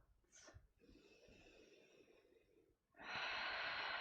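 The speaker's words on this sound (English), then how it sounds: "maybe we just take a few more of those breaths in and out" During a yoga session, a person takes slow, deep breaths in and out. A sharp nasal inhale is followed by a long, soft exhale, and then a louder, steady rush of breath at close range.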